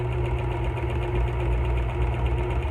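Sewing machine fitted with twin needles running a back stitch, a steady close mechanical hum and rapid vibrating chatter that continues unbroken without talk.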